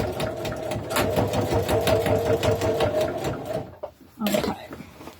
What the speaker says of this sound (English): I'm just going to put a few extra stitches here because this is going to be pulled on a lot.